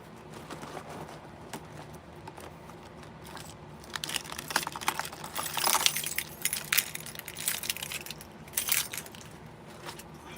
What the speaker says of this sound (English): What do I do with my keys?